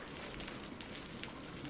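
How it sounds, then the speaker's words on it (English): Rain drums steadily on a surface as a dense, even patter, soft and continuous throughout with no other sounds. "Silence, save for the drumming of the rain and the distant rumble of thunder."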